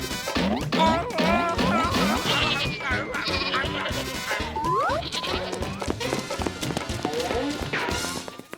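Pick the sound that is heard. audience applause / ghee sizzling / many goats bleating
many goats bleating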